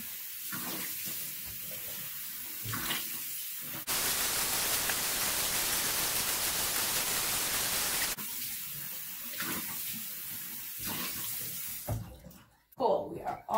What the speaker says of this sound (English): now we're going to completely rinse off the cleanser off our face